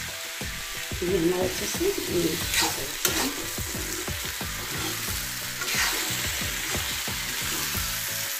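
Ripe pumpkin (kashiphal) sweet-and-sour curry sizzles steadily in a hot pan while a spoon stirs and scrapes it with repeated rhythmic strokes. Someone speaks briefly over the frying.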